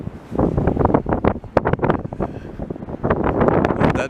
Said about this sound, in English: See how windy it is here?